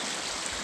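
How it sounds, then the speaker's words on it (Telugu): Mountain stream water flowing down from the hills, a steady broadband rush heard close and continuous with no voices over it. "ఇదంతా వాటర్ ఫ్లాలింగ్ పైనుంచి కొండ నుంచి"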